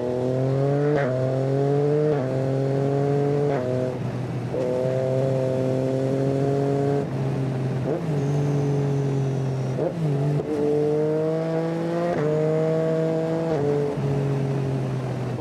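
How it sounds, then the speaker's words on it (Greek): A Yamaha Tracer motorcycle accelerates hard with its tyre spinning, the engine rising in repeated revving pulls through several gear changes, loud and steady with no talking. "όταν ξεκινάς λίγο πιο γρήγορα γράφει και ακούγεται το λάστιχο που σπινιάρει"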